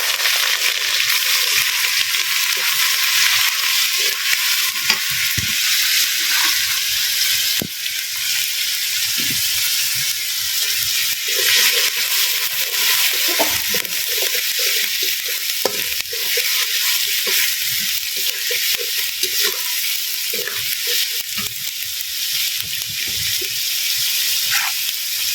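Garlic and onion paste frying with chicken for biryani, a steady loud sizzle and hiss running throughout with occasional stirring scrapes, no voices.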